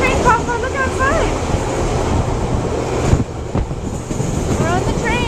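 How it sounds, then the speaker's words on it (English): TranzAlpine passenger train riding through New Zealand's Southern Alps, a loud steady rumble and rattle of the carriage on the rails with wind buffeting and faint squeals, heard from on board. "We're on the train."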